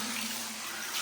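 Hot spring water pours continuously into a stone-floored bath at a Japanese onsen inn, a steady close splashing rush with no talk.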